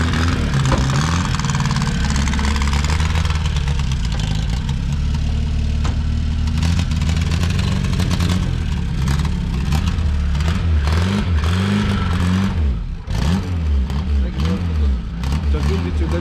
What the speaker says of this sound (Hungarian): Vagyis motoros megindítottam, nem melegedett meg.